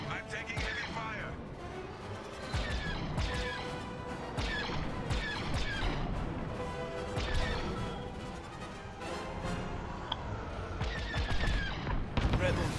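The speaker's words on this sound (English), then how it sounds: "I'm taking heavy fire." Heavy laser cannon fire in a Star Wars: Squadrons dogfight, rapid overlapping blasts and impacts layered over a continuous engine and music bed, dense and sustained throughout with occasional louder hits.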